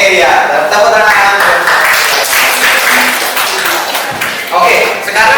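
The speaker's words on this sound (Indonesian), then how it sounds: "tepuk tangan." A classroom of students clapping hands together, a steady dense applause filling the room at close range, with some voices mixed in.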